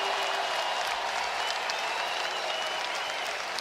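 A large basketball arena crowd in Birmingham applauds during a Purdue at Auburn game: dense, continuous clapping at a steady level for a few seconds.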